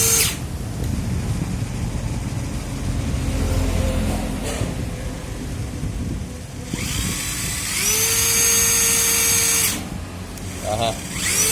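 A cheap cordless battery-powered screw drill runs in loud whirring bursts, spinning up and down several times, with someone talking in between.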